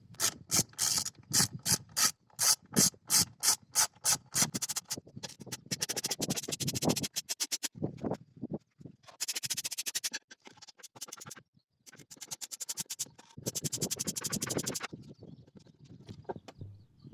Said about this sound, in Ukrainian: Тепер відкручуємо захисну кришку, під якою знаходяться свічки і катушки запалювання.